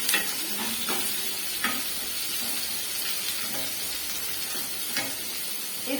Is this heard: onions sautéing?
yes